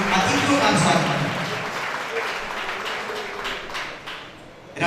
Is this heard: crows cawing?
no